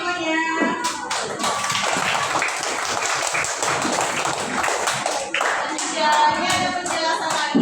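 A class of schoolchildren claps hands in applause, a dense, sustained patter of many hands with some voices mixed in.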